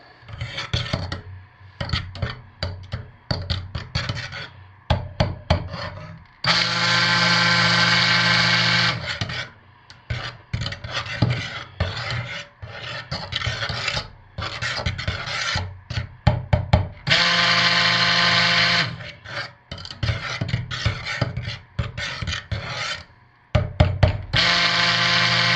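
Stick blender whirring through cold process soap batter made with lye water at about 85°F, coming in loud sustained bursts of several seconds separated by softer clattering and scraping in the container.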